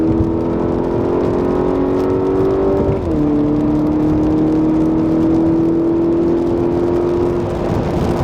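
Stock, lowered VW Mk6 accelerating hard, a loud steady engine drone that rises in pitch, dips briefly at a gear change, then climbs again, heard from inside the car.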